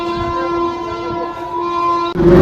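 A train sounds a loud, sustained horn at a railway station, a close steady blare over rumbling rail noise that ends in a brief clatter.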